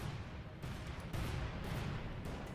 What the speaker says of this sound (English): Lots of explosions there.